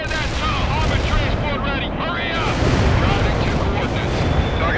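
Soviet mortar fire in World in Conflict, a constant barrage of booms and blasts merging into a loud roar, with a radio voice talking over the din.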